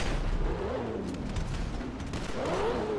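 Gunfire rattles continuously during a large gang fight at a yellow crane in GTA V, with dense overlapping shots and booms at steady loudness and no pause.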